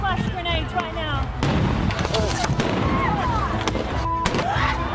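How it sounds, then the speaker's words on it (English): Police, with State Patrol on hand, hurl flash grenades at protesters at night: several sharp, booming bangs burst through constant crowd shouting and voices, spread across a few seconds. "We're preparing to take on these protesters and throwing flash grenades right now."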